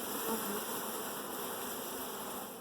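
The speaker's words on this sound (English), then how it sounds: "That is a little bit of bees" A swarm of bees being gathered up hums in a dense, continuous buzz, loud and close, holding steady throughout with no voices.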